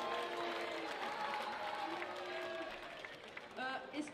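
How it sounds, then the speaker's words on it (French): Audience applause after a speech at the launch of the Aurillac festival, steady moderate clapping with a few voices talking over it. "Vous pouvez l'applaudir."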